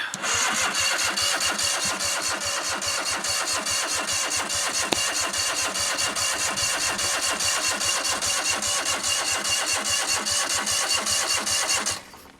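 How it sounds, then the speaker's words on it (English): A boat engine cranks over and over in a fast steady chugging rhythm for about twelve seconds without catching, then cuts off. "Now the boat won't start."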